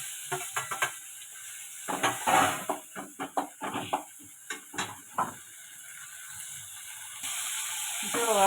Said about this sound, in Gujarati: પછી આપણે આ ટમેટાથી વઘાર કરીશું।